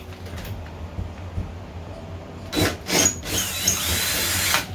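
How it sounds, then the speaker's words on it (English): Power drill driving a planter anchor into a ceiling during a modern planter installation, heard as a couple of short whirring bursts after a quiet stretch, then a sustained grinding whine that continues to the end. "Needed a bigger drill bit because this piece has to get pushed in and then it'll start screwing into the ceiling"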